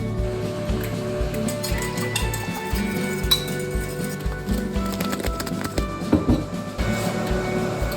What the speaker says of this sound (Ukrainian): Ставимо чайник.